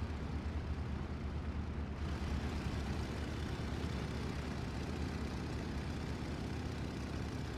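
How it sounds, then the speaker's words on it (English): A P-47 fighter bomber drones through a video game dogfight against a BF-109, its engine a steady, dense low roar that holds unbroken and fairly loud throughout. "P-47 going against the BF-109 here"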